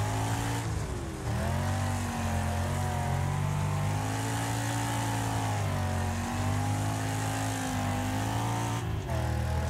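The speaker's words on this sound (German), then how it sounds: "Dann höre ich das Summen schon vom Motor." Steady engine hum from a car racing in the Wreckfest video game, with harmonic engine tones that shift slightly as it runs through the final lap, loud and continuous with no talking.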